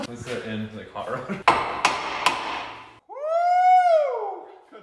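Hammer blows ring out on a car's front suspension parts, tie rod and ball joint, during subframe removal on an EK hatch; three sharp metallic strikes follow some clatter, then a voice whoops loudly.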